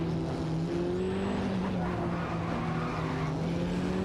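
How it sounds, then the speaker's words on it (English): A Ford RS200 IMSA GTO and a Ferrari F40 Competition race in a video game, their engines holding a steady, loud, continuous drone with shifting pitch and hints of tire squeal throughout. "Towards the back, Jack Hacker and Meyer in a Ford RS200 IMSA GTO are fiercely competing with Electric Mary and Sirenov in a Ferrari F40 Competition for 18th place."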